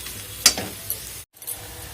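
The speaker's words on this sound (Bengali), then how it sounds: "রসুনটাও ভেজে নেবো" Garlic frying in a pan with onion and cumin seeds, a low sizzle broken by a couple of sharp utensil scrapes and a brief gap.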